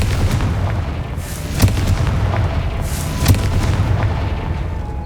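Two deep booming blasts, about a second and a half apart, from a Confringo fire spell in the Hogwarts Legacy video game, heard over a steady rumbling game backdrop with no talk.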